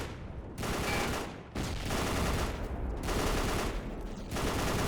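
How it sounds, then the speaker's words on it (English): Sustained machine gun fire in the Battle for the Pacific video game, on Leyte Island, coming as dense rapid bursts broken by a few brief pauses, loud and continuous. "Taking out these machine gunners in the distance."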